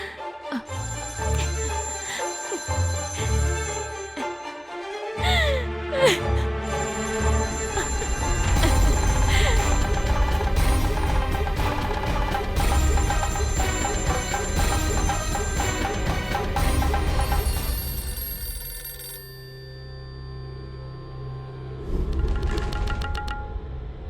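A telephone rings in a domestic drama scene, its repeated electronic tones sounding over music that swells and drops for about twenty seconds.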